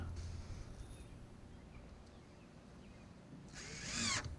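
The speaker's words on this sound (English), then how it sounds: "put my screws in, making sure that the deck boards are tight against each other" A power drill drives screws into wooden deck boards outdoors, a faint, steady background hum followed by one short, louder whirring burst near the end.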